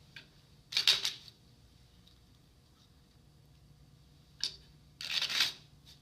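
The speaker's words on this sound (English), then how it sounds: "shuffling the deck." A deck of playing cards being shuffled in a quiet room, heard as three short crisp riffling bursts separated by pauses.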